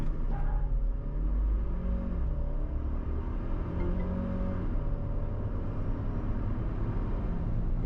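GWM Tank 300 Hi4T engine straining against the held brakes, a low continuous rumble with a faint rising whine, steady and close with no talk.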